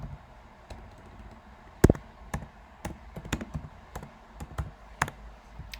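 Typing a country name into an immigration application form on a computer keyboard produces sparse, irregular key clicks with short pauses, one sharper tap standing out, close and fairly quiet with no talking.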